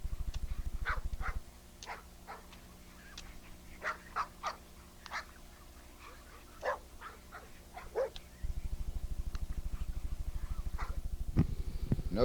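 An American Bulldog working a bite sleeve in a yard, with a series of sharp barks and growling yelps spread over several seconds against a low steady hum, with no talking.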